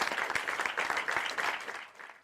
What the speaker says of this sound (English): Sorry, I got my clap on the wrong soundboard.